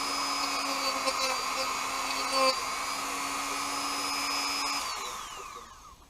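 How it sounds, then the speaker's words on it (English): A Dremel rotary tool whines at a steady high pitch nearby, then spins down with a falling tone as it is switched off while working on a Honda Bros (Hawk GT) motorcycle. "Dremel tool"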